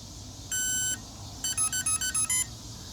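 The motor controller on a homemade 1500W electric road bike beeps as its battery is connected: one long tone, then a quick series of six short electronic beeps, clear and close over faint background hiss.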